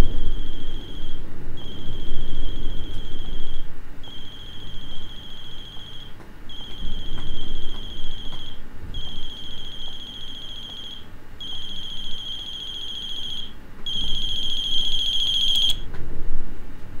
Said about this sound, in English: the ringing is making my tinnitus act up